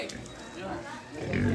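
A pig grunts and squeals at a village wedding preparation in Toraja, with short rough calls rising near the end, heard close under people talking.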